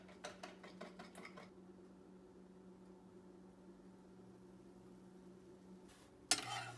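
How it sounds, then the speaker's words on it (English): A single egg is whisked into batter in a bowl, a quick run of rapid clinking strokes, then a quiet pause, then a sharp clatter of utensil against bowl near the end. "I'll put one egg in and whisk that up"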